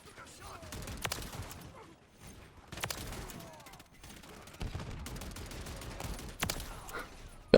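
Call of Duty MW3 multiplayer gunfire, with sharp rapid bursts of automatic shots in several spaced volleys over quiet game ambience, fairly faint overall.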